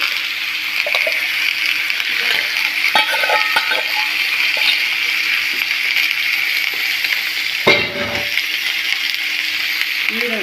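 Tomatoes, green chillies and liver fry steadily in a pan, a continuous loud sizzle with occasional stirring clinks and a brief scrape near the end, no voices.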